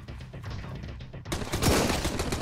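Machine gun fire in the survival game Sunkenland: a rattling burst of rapid shots, softer at first, then a loud dense volley with impacts that keeps going to the end.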